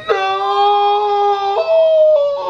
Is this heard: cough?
no